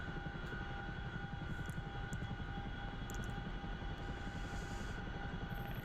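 CH-47 Chinook tandem-rotor helicopter in the DCS flight sim, its turbine whine and steady rotor thump droning loud and continuous close by while it hovers near a landing pad, with no voices.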